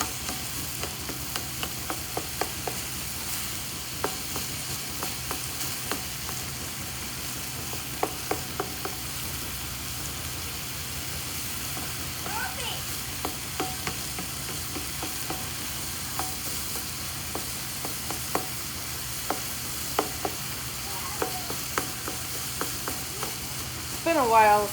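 Chopped ingredients are stirred into homemade chili in a sizzling pot, a continuous soft frying hiss broken by repeated light scraping and clicking of a spoon, close and fairly quiet.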